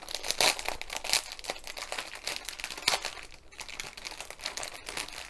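Crinkling plastic packaging being handled and torn open to get at bags of diamond painting drills, a close, continuous rustle with sharper crackles and tearing bursts throughout.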